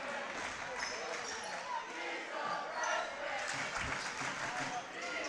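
A basketball crowd at a CCS championship game between Oakwood and Woodside Priory reacts to a freshman's free throws, with a continuous murmur of voices and scattered shouts, steady and fairly distant throughout.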